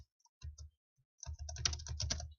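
Typing on a computer keyboard while entering a formula in Excel: a couple of light taps, a pause, then a quick, steady run of close keystrokes.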